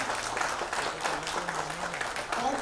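Audience in a Hindi-language show launch event applauds to welcome a singer, a steady dense clapping wash that runs the whole moment at moderate level.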